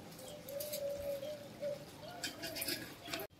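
Pigeons or doves coo repeatedly in a home kitchen garden where water is set out for birds and animals, steady soft calls over light background noise with no talk.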